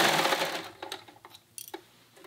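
A sewing machine stitches a hood onto a dress bodice in a short, fast whirring run, followed by quiet clicks and fabric handling up close.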